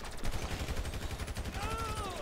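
Pistol gunfire in GTA Online during a casino mission, a rapid string of sharp pops tightly spaced across the clip, with a faint tonal game sound near the end.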